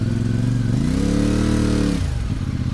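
A motorcycle engine revs hard and close in first gear while trying to climb out of mud on a mountain trail ride, rising in pitch, holding high, then dropping back to a lower rumble.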